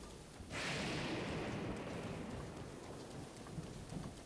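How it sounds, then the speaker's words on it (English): Steady rain in the Zelda Breath of the Wild game world starts abruptly and keeps up a dense, even hiss of falling drops, heard alone with no talking. "Man, I kind of wish it wasn't raining right now"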